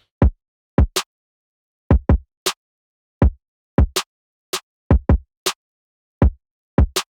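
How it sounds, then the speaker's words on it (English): Programmed kick and snare drums, the kick pushed through stock Logic distortion, play alone in a sparse pattern of punchy, separated hits with short silences between them. "Really all that's left to talk about the drums is the kick and the snare, and those sound like this."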